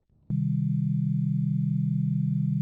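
A steady low electronic drone from a Pocket Piano synthesizer switches on abruptly and holds at one constant pitch, loud and unbroken, with no other sounds.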